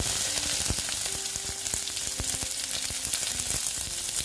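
Onion dropped into hot oil already tempered with cumin, frying hard with a dense, steady sizzle and crackle close up, broken by scattered sharp pops and the occasional tap of a utensil, with nobody talking.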